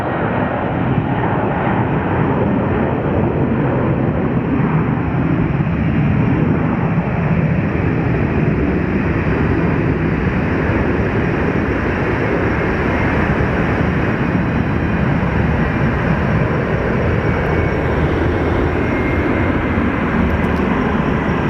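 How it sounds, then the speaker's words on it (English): An airliner bound for Houston roars down the runway on its takeoff roll, a loud, steady, broadband engine rumble that fills the whole stretch without letting up. "So our flight to Houston is roaring down the runway."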